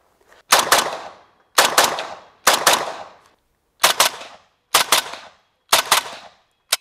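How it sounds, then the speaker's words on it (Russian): Six loud shots from a Saiga rifle with its stock muzzle brake, fired one at a time at roughly one-second intervals, each a sharp crack with a brief decaying echo. "мы послушаем, как звучит выстрел со штатным ДТК"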